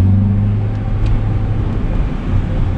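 Acura Integra engine running while driving after a distributor cap and rotor replacement that fixed a misfire, a loud, steady low drone of engine and road noise throughout.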